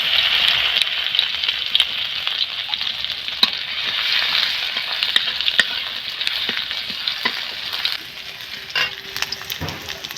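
Garlic paste frying in a pan for an egg and eggplant curry, a steady close sizzle with occasional sharp crackles and pops running throughout, quieting slightly near the end.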